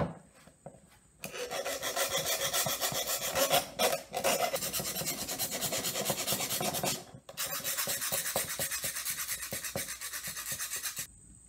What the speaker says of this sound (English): I want to sharpen these nails a little bit, because as you can see, they're a little dull, so I want to make them a little sharper. And I'm going to do it with a hand file.